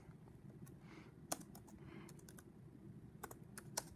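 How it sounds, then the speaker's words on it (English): Faint tapping of a computer keyboard as a search is typed, light irregular keystrokes with a few sharper clacks over a low background hum. "type in Business Insider Media Bias"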